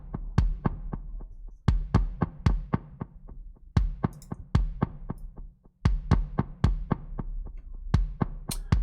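A drum loop runs through a Soundtoys EchoBoy plugin on its Telray echo setting inside Pro Tools, each sharp thump trailed by a quick fading repeat, in a punchy repeating rhythm.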